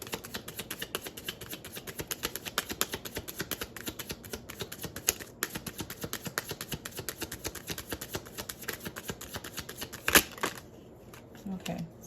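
Tarot cards handled and slipped back into a deck during a twin flame reading, a steady run of soft, rapid papery clicks and flutters close by, with a sharper snap near the end.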